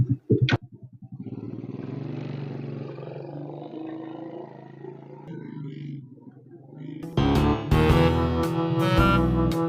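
A motorcycle engine idles with a low rumble, then revs up loudly near the end, roaring close by.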